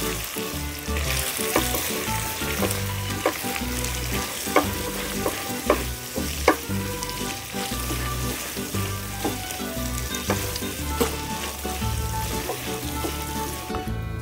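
Egg mixture for an authentic tagliatelle carbonara is stirred vigorously through the pasta in a hot pan, giving a steady sizzle with rapid, repeated scraping clicks of the utensil against the pan, close and continuous with no talking.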